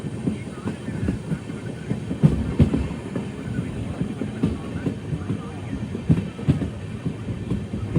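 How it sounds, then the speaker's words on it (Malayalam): An Intercity Express train running between Guruvayur and Thiruvananthapuram pulls into Harippad railway station, with loud, continuous rumbling and rhythmic clickety-clack of the wheels, broken by periodic heavier clunks over rail joints. "ഇത് ഹരിപ്പാട് റെയിൽവേ സ്റ്റേഷനിലേക്ക് എത്തുകയാണ്"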